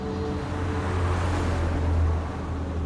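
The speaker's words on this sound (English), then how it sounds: "Now I hear freeway sounds and trucks." Distant freeway traffic and trucks beyond a South Florida refuge tree line make a broad, continuous low rumble with a steady droning hum, like heavy vehicles rolling past far away, with no voices.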